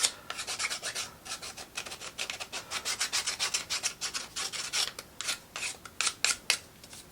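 Sanding a wooden piece for a marble run: a quick, rhythmic run of dry rasping strokes, close and fairly loud, with no talking.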